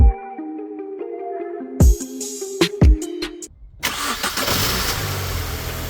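The engine of an old barn-find Mini cranks with a few sharp starter bursts, catches briefly, then bursts into a rough, loud running idle close by.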